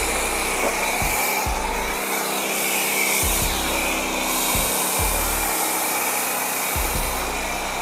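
A foam sprayer blows a steady, loud hissing spray over a shortened classic Mini car, with a few low thumps breaking through the constant rush.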